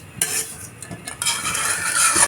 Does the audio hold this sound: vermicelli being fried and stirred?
yes